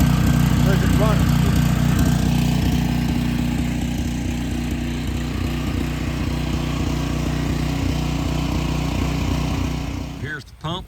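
A solar-powered deep well pump system runs with a steady, loud mechanical drone and humming overtones that hold nearly unchanged throughout, with a brief clatter of handling near the end.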